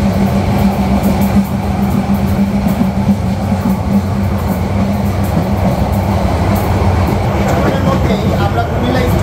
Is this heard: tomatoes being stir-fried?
no